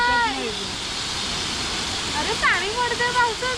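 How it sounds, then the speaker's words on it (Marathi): Waterfall water pours down steadily in a broad wash of noise, with rain also falling, while voices talk over it at an outdoor Maggi cooking spot beneath the falls. "वरून नॅचरल पाणी पण पडतंय वरती पावसाचं पण पाणी पडतंय"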